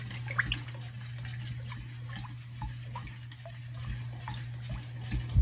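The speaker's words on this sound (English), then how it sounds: "Mix it up some more." Homemade Jamaican sorrel drink is stirred in a container, giving soft, continuous liquid swishing with small ticking clinks against a steady low hum, fairly quiet and without speech.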